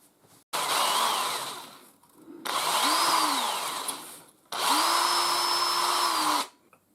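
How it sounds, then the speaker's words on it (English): A power drill bores holes in a 3D printed plastic gutter, in three close bursts of whirring motor: a short start, then two longer runs that rise and fall in pitch, separated by brief pauses. "I'll drill these holes first of all and screw them in"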